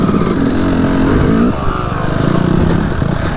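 A dirt bike engine revs hard under heavy throttle in the woods, a loud buzzing roar that holds high, dips briefly, then climbs again, close to the listener.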